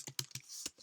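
Computer keyboard keys are tapped in a quick burst of four or five light, close clicks in an uneven rhythm.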